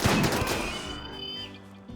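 A short burst of gunfire from Centipede Blasters and Lancers in RimWorld, a loud crackling volley at the start that fades into a ringing tail.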